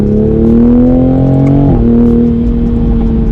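A Toyota Supra A90 in sport mode accelerates hard, its loud, steady engine note climbing in pitch before a quick shift drops it and it pulls on again.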